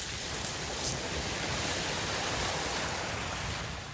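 Sea waves wash steadily along the Gyeongju seaside, a broad, continuous surf roar with a gentle swell partway through, moderately quiet and with no voices.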